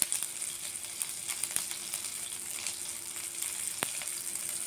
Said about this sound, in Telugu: పోపు కూడా వేగిపోయిందండి